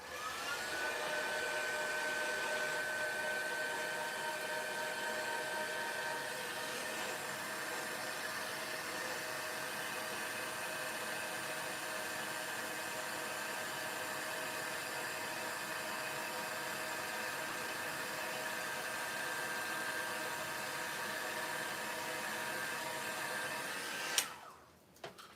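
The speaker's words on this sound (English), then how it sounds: "we're going to heat set this now, so it's only going to get a bit noisy" A steady, loud blowing whir of a heat tool heat-setting embossing on a handmade card runs continuously, then clicks off near the end.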